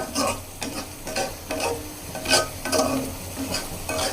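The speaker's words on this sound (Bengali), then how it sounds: "তখন রসুন কুচি করি, রসুন দিয়ে বাগার দিয়ে দিয়েছি" Chopped garlic tempering in hot oil over a cooked pumpkin-and-lentil dish, a steady close sizzle broken by several bursts of stirring and scraping, with no talking.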